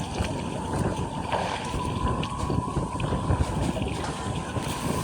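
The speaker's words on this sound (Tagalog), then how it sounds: "Maingay nga sa tainga yung hangin." Steady wind buffets the microphone with a constant low rumble and rushing hiss throughout, loud and unbroken.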